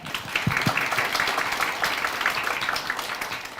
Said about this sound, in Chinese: 然后让我们掌声欢迎